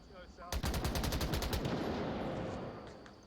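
Rapid automatic gunfire rings out in a competitive team shooter match, a sudden burst of closely spaced shots after a quiet moment, then a fading echo and more scattered shots in the distance.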